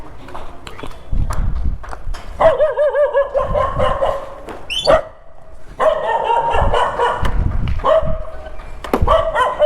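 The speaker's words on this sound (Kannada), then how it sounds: "ನಾಯಿಗಳು ಬೊಗಳ್ತಾ ಇದೆ" Dogs bark repeatedly in a Nagarbhavi, Bengaluru street, with loud, close bursts coming in uneven clusters over a continuous background hum.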